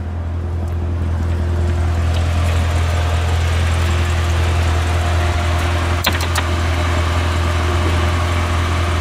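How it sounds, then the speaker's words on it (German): A 2015 Chevrolet Corvette Z06 in Shark Grey, its supercharged LT4 V8 rated at 650 PS idling under a carbon hood: a deep, steady low rumble with a constant hum, close and even, with a couple of brief clicks partway through. "Und hier haben wir den LT4 mit Supercharger."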